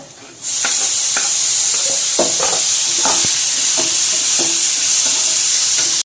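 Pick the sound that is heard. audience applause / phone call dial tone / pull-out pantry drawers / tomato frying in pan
tomato frying in pan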